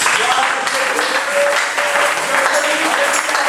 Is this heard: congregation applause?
yes